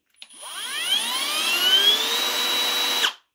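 A Milwaukee M12 cordless drill runs steadily with its trigger held fully down, a high motor whine rising in pitch as it spins up, then cutting off after about three seconds, close and alone.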